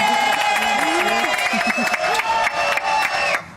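A studio audience on a French television show applauding and cheering for two guests, dense clapping and shouts with a voice talking over the din before it cuts off abruptly.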